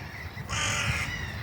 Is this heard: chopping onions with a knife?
no